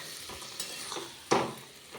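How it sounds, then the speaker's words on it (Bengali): Cauliflower and potato are fried and stirred in a spice paste in a pan, giving a soft sizzle with a few scraping stirs close by, one sharper scrape near the end, and no talk. "তার মধ্যে ফুলকপিটা দিয়ে আবার কষাচ্ছি আলুটা দিয়ে"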